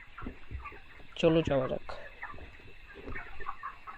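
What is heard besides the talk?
chickens clucking on a poultry farm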